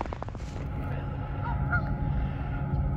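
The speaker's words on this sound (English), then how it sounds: "A lot of geese in the water and across the trail here." Geese honking nearby on a stream-side trail after the first snow, a few short calls rising over steady outdoor rumble and flowing water.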